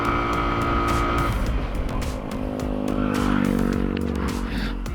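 An FKM Slick 150 motorcycle rides at about 40 on an empty road, its engine droning, then brakes hard with front and rear brakes, the pitch shifting as it slows; heard alone, no talk.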